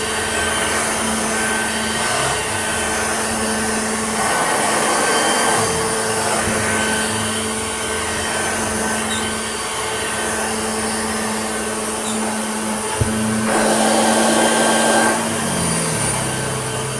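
A restored Hoover Junior 1346a upright vacuum cleaner runs steadily on carpet, a loud continuous motor drone with slight shifts in pitch as it is pushed back and forth.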